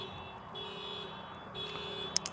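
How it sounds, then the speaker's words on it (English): A car alarm going off outside, a faint steady electronic tone that cycles on and off in the distance, with a couple of brief sharp clicks near the end. "somebody's car alarm went off."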